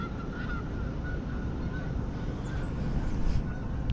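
Geese honk repeatedly while being chased by a dog, their calls coming from some distance over a steady outdoor rumble.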